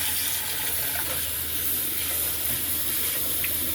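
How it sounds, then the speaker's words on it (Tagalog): Running water pours steadily from a tap over preserved vegetables being rinsed in a sink, a continuous close hiss and splash with no pauses. "hugasan muna natin ng ilang beses"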